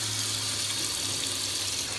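Hot tap water pours steadily into a container mixed with isopropyl alcohol and Ajax dish detergent, a continuous broad rushing hiss with no breaks, close and even throughout.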